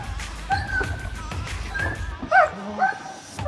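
A protection dog takes her first bite on a bite suit during training, giving close, excited yips, whimpers and short barks in an irregular burst, with a few dull thumps.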